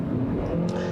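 A 2020 Ford Escape hybrid's engine gives a steady droning buzz from inside the cabin while driving, continuous and fairly loud through the whole moment.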